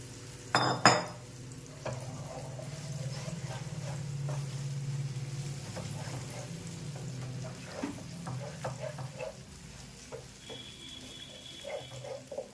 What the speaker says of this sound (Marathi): त्यातच आता आपण जे तयार करून घेतलं होतं मिश्रण ते टाकून घ्यायचं आहे आणि मिक्स करायचं चांगलं